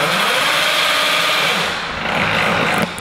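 A cheap Chinese bead roller fitted with a motor and electronic foot switch runs in forward speed with a steady, close, high-pitched whine and hum, dropping briefly before ending with a click.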